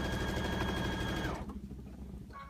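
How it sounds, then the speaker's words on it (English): Sewing machine stitching a quarter-inch quilt binding seam, a loud steady whirring drone for over a second before slowing and stopping, then a brief restart near the end. "I'm just going to sew right along here at a 1/4 inch."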